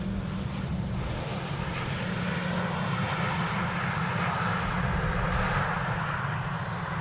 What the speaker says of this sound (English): Next up, another wide body. KLM flight 622, arriving from Atlanta, Georgia.